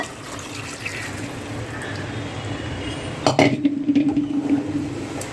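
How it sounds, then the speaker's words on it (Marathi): Steamed-chicken water is poured into a pan of masala-coated chicken for a spicy Marathi-style chicken curry cooked at home, a steady liquid rush with a sharp pan clank partway through and continued sloshing. "आता आपण हे जे पाणी होतं ना वाफेवलेलं चिकन ते घालूया"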